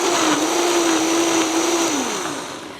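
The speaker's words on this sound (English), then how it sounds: "And then I'm going to turn on my blender." A countertop blender purees a soup of nutritional yeast and garlic, its motor holding a steady, loud whir before winding down toward the end.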